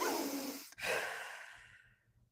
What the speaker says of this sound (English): Stage 2 is breathing in and out, but not as fast, and still no break between in and out.